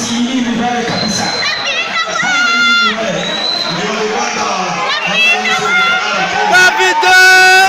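A crowd at a footrace in Musanze District cheers and claps for the runners. The shouting and applause are loud and continuous, and a commentator talks over them the whole time.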